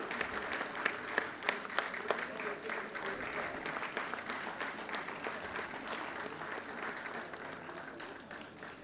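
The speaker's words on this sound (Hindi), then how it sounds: "अगर तालियां ऊर्जा के साथ बजाई जाएंगी तो सिक्किम से पधारे इन कलाकारों को और प्रोत्साहन मिलेगा" An audience claps for visiting performers from Sikkim at a Sikkim–Uttar Pradesh ceremony, sharp individual claps standing out at the start before settling into even, sustained applause.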